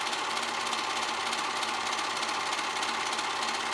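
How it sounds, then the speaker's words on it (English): A serger sews along the fabric edges of a tee dress bodice, running at a steady fast mechanical whir with dense rapid stitching and no pauses. "Now I'm just serging along the edges, making sure that both of my back bodice and my front bodice are being serged in"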